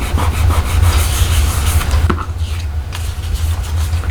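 Paper card stock being rubbed by hand during birthday card making, a steady close-up scraping friction over a low hum, continuous for most of the clip before easing off near the end.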